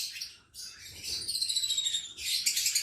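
Small pet lovebirds chirp in high, bright bursts, a run of rapid repeated tweets with a short pause near the start, fairly close and clear over a quiet room.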